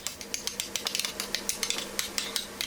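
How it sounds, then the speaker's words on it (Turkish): A spoon stirs strained yogurt with salt and garlic into a sauce, giving quick, light clinks and scrapes against the bowl in an irregular, steady rhythm, close and fairly quiet. "Hepsini güzelce karıştırıyorum."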